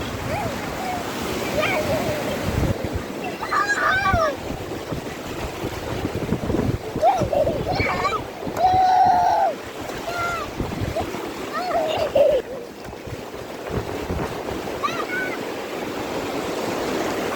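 Big sea waves crash and wash onto a sunny Konkan beach, a broad continuous surf roar with wind buffeting the microphone, while children shout and talk excitedly over it throughout.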